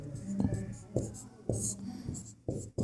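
Chalk or marker strokes on a classroom board while writing a maths answer, a series of short scratchy taps and scrapes in an irregular rhythm, close and fairly quiet.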